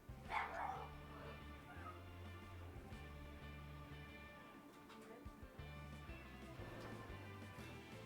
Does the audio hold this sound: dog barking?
yes